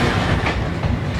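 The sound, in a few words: Yarra Valley Railway train running on the tracks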